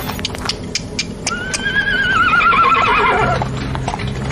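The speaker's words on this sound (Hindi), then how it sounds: "और चुपचाप कोच पर सवार हुआ और घोड़े चल पड़े" Horses harnessed to a coach set off, with a loud whinny rising and falling over quick hoof clip-clops close by.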